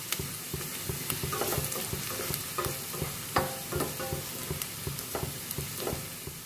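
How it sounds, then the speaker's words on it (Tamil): Onions frying in a pan for an egg gravy, a continuous busy sizzle with frequent stirring scrapes and clicks of a spoon throughout, close and fairly loud. "அது வரைக்கும் ஃப்ரை பண்ணலாம்"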